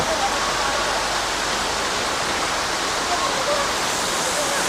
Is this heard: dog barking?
no